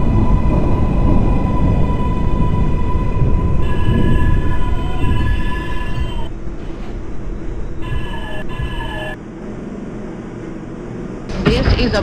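A simulated IRT Lexington Avenue 4 express subway train in BVE train simulator hums and rumbles with steady motor tones and chimes, loud and continuous, under an automated announcement voice, easing quieter toward the end.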